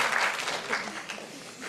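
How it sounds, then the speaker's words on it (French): An audience at a talk on the Arab world and Europe breaks into applause, a dense, steady clatter of many hands clapping at moderate distance, filling the brief moment without a break. "c'est des applaudissements pour vous et contre vous"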